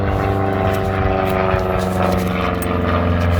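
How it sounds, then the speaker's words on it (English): An airplane passes overhead near a home garage where brake hoses are being replaced on a 1960s Ford Mustang, making a loud, steady droning hum with a buzzy propeller tone that holds throughout. "excuse the airplane."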